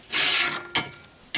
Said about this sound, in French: Je trace également un trait là où j'ai repéré pour faire le perçage